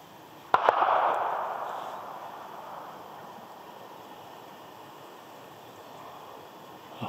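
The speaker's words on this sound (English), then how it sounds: "You see there's a gunfire in somewhere nearby field, and they're spooked obviously." A single distant gunshot from a nearby field cracks early on at a deer park, followed by a long, fading rumbling echo over a steady outdoor hiss.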